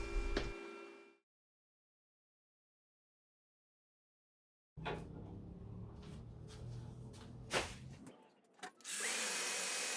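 Power sanding of a laminated wooden piece built from four glued sections, a buzzing tool burst at the start, a long silence, then sustained sanding noise with scraping surges and a loud final stretch.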